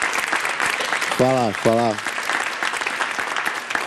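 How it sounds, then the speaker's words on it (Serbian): An audience claps steadily in a dense, continuous burst of applause on an entertainment show, with someone speaking briefly over the clapping. "Evo, aplauz već."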